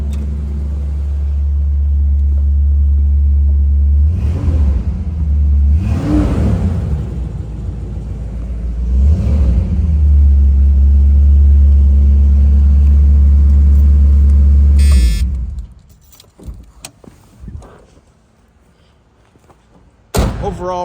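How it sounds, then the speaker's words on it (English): A 1978 Pontiac Trans Am engine idles in a steady, loud, close rumble, swells in a few revs, then cuts off into quieter thumps and a door slam near the end. "Give it one final rev for all of you before we wrap up."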